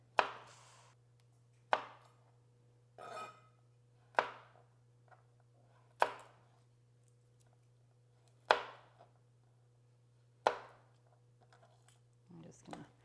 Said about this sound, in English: back to my favorite thing, mincing the garlic